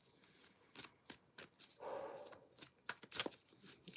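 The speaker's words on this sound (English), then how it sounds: "All right, just a few shuffles first." Cards shuffled up close in a quick series of riffles and snaps, fairly quiet, with a brief rushing sound in the middle.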